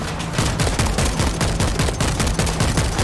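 An automatic gun fires at zombies in the video game World War Z, a loud, unbroken stream of rapid shots running the whole time with no voices over it.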